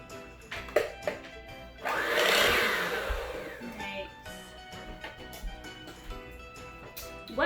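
An electric mixer whirs into butter and toffee cake batter, starting abruptly and running at moderate loudness for a couple of seconds before fading into lower clatter and faint handling noises.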